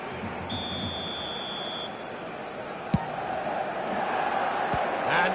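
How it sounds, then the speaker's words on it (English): Stadium crowd in the eFootball video game on PS5 cheering as a broad steady roar, with a brief beep tone early on and a sharp knock midway, rising slightly toward the end. "Certainly gave this crowd something to really cheer about."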